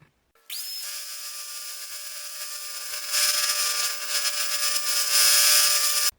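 A high-pitched whining bench grinder spins up and runs steadily, growing harsher and louder as a screwdriver tip is pressed against it and ground to a point, close by.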